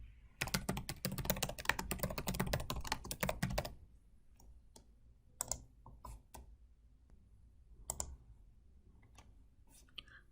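Fast, close typing on a computer keyboard fills the first few seconds, then trails off into a few scattered key taps and clicks over quiet room tone.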